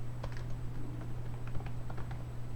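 Keys on a computer keyboard are pressed in light, quick clicks while formatting a document in a word processor, several soft taps scattered over a steady low hum, with no talking.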